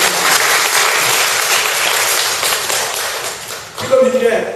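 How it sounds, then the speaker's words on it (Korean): An audience at a Korean church gathering applauds with loud, dense clapping that fills the clip, and a voice begins speaking over the tail end. "여러분 박수 한번 쳐주세요."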